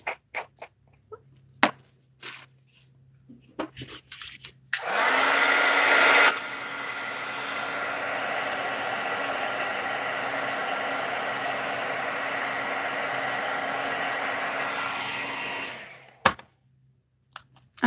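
Heat embossing tool melting embossing powder for a crafting project: a steady close blower whir switches on after a few soft handling taps, runs evenly for about eleven seconds, then cuts off.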